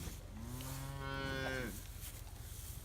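A single cow lets out a long, loud moo in a cattle yard, its call rising and fading over about a second and a half against steady outdoor background noise, with quieter yard sounds after.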